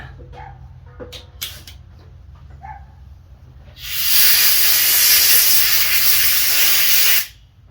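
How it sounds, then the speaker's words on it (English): A compressed air gun blasts a loud, steady hiss into the carburetor of a 1985 TRX125 for about three seconds, following a few small clicks and taps, then cuts off abruptly. "Hit it with the air gun."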